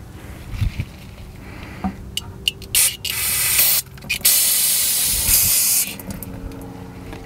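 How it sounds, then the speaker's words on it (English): A rock drill oil return strainer cap is sprayed clean with a pressurized spray, heard as several hissing bursts of varying length, the longest lasting a few seconds, with brief pauses between and no talk. "we're going to go ahead and spray that clean, especially in that area where the filter is going to seat"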